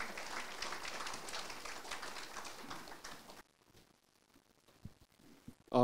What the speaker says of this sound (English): Ladies and gentlemen, another round of applause for Dr. Zubin, please.